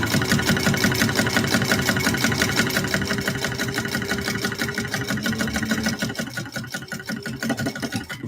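A sewing machine bastes fabric for a bowler bag, its rapid, even needle chatter running continuously up close and easing off slightly toward the end.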